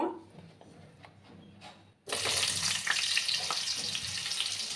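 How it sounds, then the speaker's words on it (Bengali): Potatoes dropped into hot oil for a vegetarian potato and pumpkin curry, a quiet lead-in then a sudden loud, steady broadband sizzle that holds through the rest. "দেখো বন্ধুরা, তেলটা গরম হয়ে গেছে। এবার আমি প্রথমে আলুগুলো দিয়ে দেব।"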